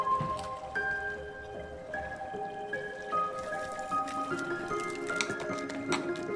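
Water pours steadily into a bottle while air bubbles gurgle up with a rising, hollow glugging tone, quiet and close.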